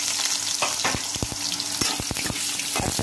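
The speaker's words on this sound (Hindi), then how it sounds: "अपने आलूओं को फ्राई करेंगे।" Potatoes frying in the same oil just used for parwal give a loud, close, continuous sizzle, dotted with sharp clicks and scrapes as they are stirred. No voices are heard.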